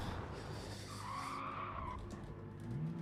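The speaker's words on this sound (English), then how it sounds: "Oh, no! Yeah, there's the oversteer gone." Car tires skidding as the car oversteers in the Gran Turismo racing game at Road Atlanta, a sustained faint squeal with engine noise underneath, lasting a couple of seconds before fading.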